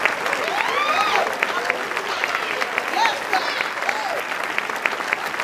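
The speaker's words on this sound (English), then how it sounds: "Clap your hands" A church congregation claps hands during a prophet's sermon, a lively, sustained mass of applause with voices and whoops mixed in, shouting over the steady clapping.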